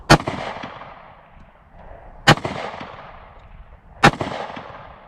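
Three sharp, loud 9mm pistol shots from a Kimber Micro 9 firing PMC Bronze ammunition at an outdoor range, spaced about two seconds apart, each followed by a brief reverberant tail.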